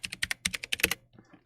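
Quick bursts of typing on a limited edition Bugha gaming keyboard, a dozen or so crisp close key clicks in an uneven run before trailing off to a few softer taps.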